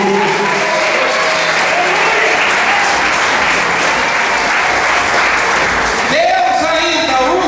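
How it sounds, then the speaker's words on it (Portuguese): A church congregation breaks into loud, sustained applause, a thick continuous roar of clapping hands that fills the room, with voices rising near the end. "Quem crê nisso, aplauda o nome do Senhor."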